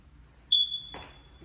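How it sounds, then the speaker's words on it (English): A single sharp high-pitched chirp from a smoke detector in a house, loud and close, ringing steadily for about a second while a faint muffled knock sounds under it. "Remember that smoke detector, that will be fixed."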